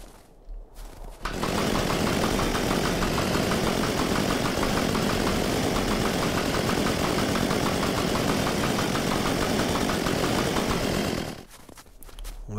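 A snowmobile engine in the survival game Unturned starts up and runs steadily and loud for about ten seconds with a dense mid-range rumble, then cuts off abruptly.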